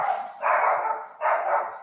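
A dog barks twice indoors during a live stream, two loud, close barks with a short pause between them, no talk over them.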